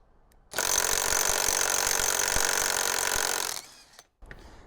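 Ingco cordless impact wrench loosening a bolt torqued to 600 newton meters, one loud sustained burst of rapid hammering that runs about three seconds, then cuts off abruptly, followed by a short quieter mechanical noise.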